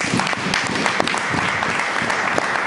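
A church congregation breaks into loud, sustained applause, a dense steady clatter of many hands that fills the room without letup.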